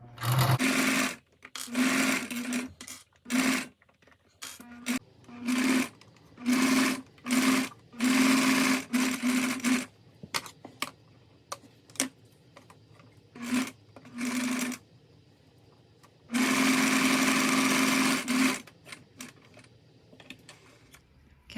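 A sewing machine stitches through vinyl while an ice cream pouch is made, running in repeated short bursts with brief pauses, then in one longer steady run near the end, close and clear with no talk.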